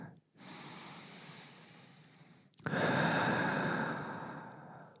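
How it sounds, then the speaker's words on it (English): Deep breaths drawn in and pushed out during a stretching exercise, a long close, breathy exhale followed by a louder rush of air, with no talking. "Big breaths in and out."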